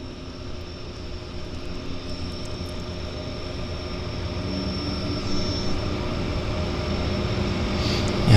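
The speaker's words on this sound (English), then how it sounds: "big airplane flying on floats" A large floatplane flies over Vancouver's downtown harbour, its steady engine drone holding throughout, swelling slightly louder toward the end with no talk.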